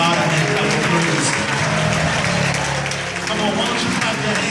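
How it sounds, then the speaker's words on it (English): A congregation claps hands in praise during a funeral home-going service, a loud, continuous mass of clapping mixed with crowd voices and music-like tones throughout. "why don't you give God a hand clap of praise?"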